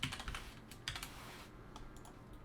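Typing on a computer keyboard, a few quick close clusters of faint key clicks followed by quieter scattered taps, with no talking.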